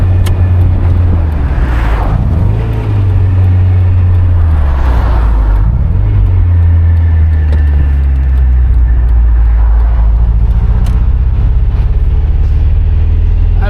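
A car accelerating at full throttle, its engine droning loud and close with a steady rising strain and brief surges over a continuous road roar, no talking heard.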